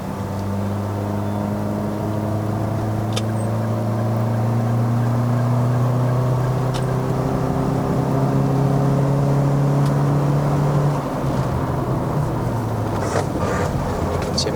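A modified Perodua Bezza 1.3L Advance engine revving hard while climbing the road up to Genting, Malaysia, heard from inside the car as a loud, sustained drone whose pitch rises and holds steady, with no talk.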